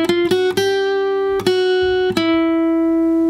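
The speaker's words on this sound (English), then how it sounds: "I'm going to play for you the first lick that I played, which basically models and follows the melody line" A guitar lick follows the melody line of a song, using open strings. A few clearly plucked notes ring out and sustain, with the attacks spaced unevenly across the phrase, close and alone.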